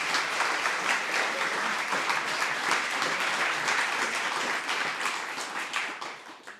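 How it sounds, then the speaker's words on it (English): An audience at a university startup pitch night and showcase breaks into sustained, dense applause that stays loud and steady for several seconds before beginning to taper off near the end. "Round of applause."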